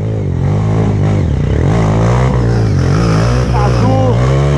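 A motocross motorcycle engine revs hard at a birthday gathering, close and loud, its pitch rising and falling in continuous surges throughout.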